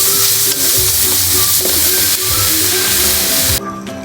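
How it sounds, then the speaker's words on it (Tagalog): Garlic, onion and tomato sizzle in hot oil in a pan for pinakbet, a loud continuous frying hiss with occasional stirring scrapes that drops off sharply near the end. "Sa mainit na mantika, igisa na natin ang ating bawang, sibuyas at ang ating kamatis."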